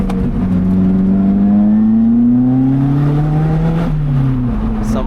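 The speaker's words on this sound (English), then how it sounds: "Car is warm, we can thrash it." A warm car engine is driven hard up a twisty mountain road toward Sustenpass, revving loud and close with its pitch rising steadily through a gear, then dropping briefly at a shift before climbing again.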